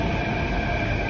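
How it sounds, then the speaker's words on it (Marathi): A metro train pulls into a station, its steady rail rumble and whine filling a brief moment close by. "मेट्रो आले."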